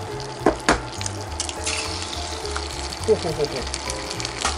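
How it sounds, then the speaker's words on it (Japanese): An egg frying in butter in a pan, a steady sizzle running under a voice, with a couple of sharper pops and clatters early on. "ただ焼くだけなんで目玉焼きいきます"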